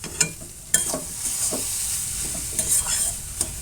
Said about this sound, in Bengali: ঢাকা চাপা দিয়ে কিছুক্ষণ আমি নাড়াচাড়া করে নিলাম